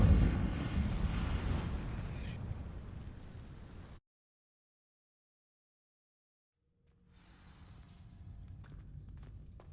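An Incendio fire spell in Hogwarts Legacy sets vines burning with a dense whooshing, crackling roar that fades into total silence, before faint scattered crackles and soft knocks return.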